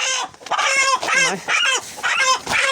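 A large Master Grey rooster clucks and calls in a rapid series of loud, close vocal bursts with no one talking over it.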